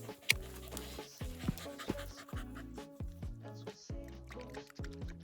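A dog pants rapidly and close by, quick rhythmic breaths with faint wet mouth sounds.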